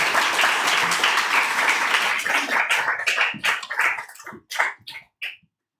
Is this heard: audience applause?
yes